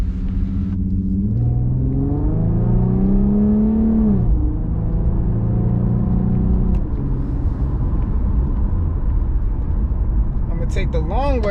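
An Infiniti fitted with a Helmholtz sport exhaust revs while driving, heard from the cabin, its engine note rising and falling through gear changes under a loud, steady road rumble.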